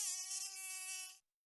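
A cartoon mosquito in an animated comedy buzzes with a thin, high, steady whine, close and continuous for about a second before cutting off abruptly into silence.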